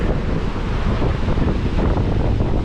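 Sea waves and wind on the beach at Thennetty Park, Visakhapatnam, on an overcast midday, with a steady, broad rush of surf and gusting wind buffeting the microphone throughout and no talking.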